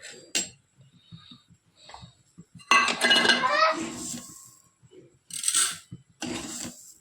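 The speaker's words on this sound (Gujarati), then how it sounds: "હવે નાખી દઈશું ખાંડ।" Sugar being added to tea brewing in a pot, with several clinks and scrapes of a metal spoon against the vessel in a home kitchen, separated by brief gaps, some louder bursts near the end.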